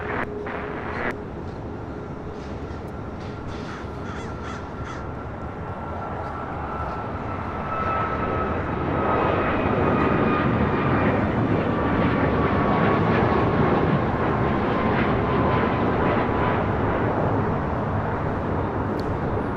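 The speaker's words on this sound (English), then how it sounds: "555 taking off to Vancouver on a MAX 8." An Air Canada Boeing 737 MAX 8 takes off from LAX: a broad, steady jet roar that swells noticeably about halfway through and holds loud to the end, with no talk.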